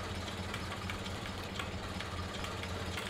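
A tractor engine in the video game GTA 5 rumbles steadily with a low knocking idle throughout, loud and close, without any talk over it.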